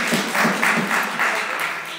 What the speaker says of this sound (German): Wir dürfen ruhig klatschen.